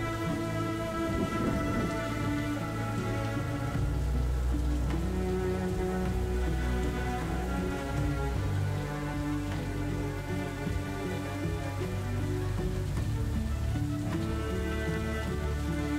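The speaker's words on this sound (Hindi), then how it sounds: "बारिश भी थोड़ी सी तेज़ हो गई थी" Heavy monsoon rain pours steadily and loudly throughout at the Naneghat Caves in Maharashtra, a dense continuous wash of sound with occasional low rumbles underneath.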